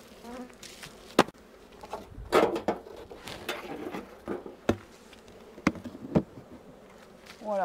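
Honeybees buzzing around an open hive during a July honey harvest and colony reduction, a continuous insect drone under repeated sharp clicks and knocks of frames and hive parts being handled nearby.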